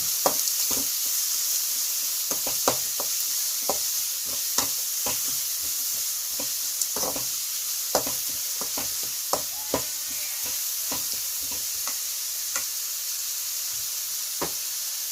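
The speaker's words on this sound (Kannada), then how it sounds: "ಈ ಥರ ಈರುಳ್ಳಿ ಹಾಕಿದಾದ್ಮೇಲೆ ಅದು ಒಂದು 5 ನಿಮಿಷ ಫ್ರೈ ಮಾಡಬೇಕು" Onions frying in a pan for vegetable noodles give a steady sizzle with frequent sharp clicks as a spatula stirs and scrapes. The sound stays at an even level throughout, and no one speaks.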